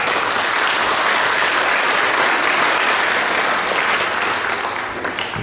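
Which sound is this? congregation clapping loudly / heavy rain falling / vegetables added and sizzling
congregation clapping loudly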